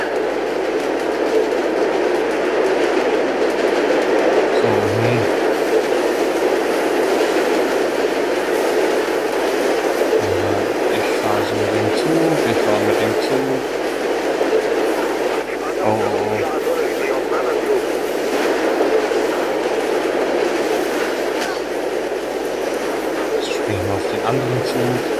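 Train in the video game Mirror's Edge rumbling past as a steady loud roar with faint clattering, heard under someone talking in German.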